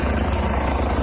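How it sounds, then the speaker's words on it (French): A police helicopter hovers overhead during a farmers' protest turning violent, its rotor producing a loud, steady low thumping drone throughout one unbroken second. "Toujours hélicoptère."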